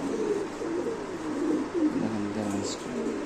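A fancy pigeon on a pigeon farm coos repeatedly nearby, soft throaty low notes rolling one after another, with faint murmuring in the background.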